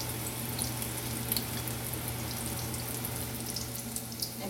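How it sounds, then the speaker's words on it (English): Pakora dumplings frying three or four at a time in oil over low to medium heat make a steady, dense sizzle with occasional small pops, close by and with no voices. "we are going to put 3 or 4 pakoras at a time and fry it on low to medium"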